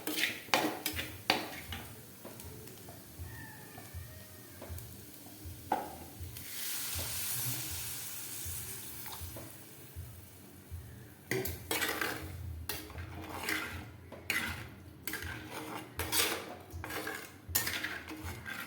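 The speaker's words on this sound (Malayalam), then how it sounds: "ഇവിടെ പുളിഞ്ചി ഇവിടെ തിളച്ചു മറിഞ്ഞ് വറ്റിക്കൊണ്ടിരിക്കുകയാണ്" Puli inji, a tamarind curry, bubbles down in a pan with a gentle sizzle, broken by repeated clinks and scrapes of a spoon against the metal as it is stirred, with a quieter stretch of simmering in the middle.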